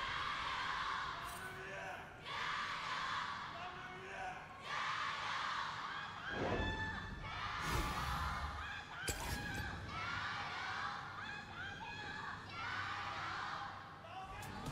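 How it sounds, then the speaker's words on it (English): An esports arena crowd at a League of Pro League summer-split match chants and cheers in swelling waves, loud rhythmic group calls rising and falling over several bursts. "The crowd got excited. Now they're just chanting to a sepia screen."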